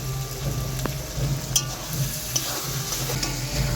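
Fish kalia spice mix fries in oil as it is stirred, producing a steady close sizzle with occasional scraping clicks from the spoon.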